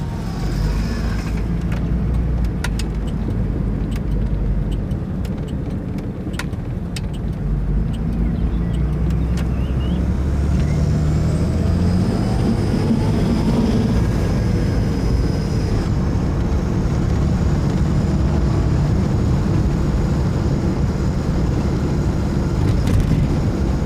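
An NSU Ro80 with a rotary engine drives along in a deep, steady, fairly loud engine drone that shifts in pitch as it pulls away, with a few faint clicks early on and no talk.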